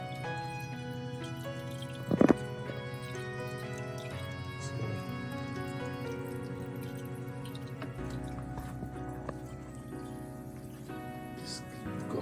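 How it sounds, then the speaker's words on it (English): Water keeps running and leaking in a toilet tank, a quiet steady trickle with faint drips and one brief louder splash early on. "my water is still leaking somewhere"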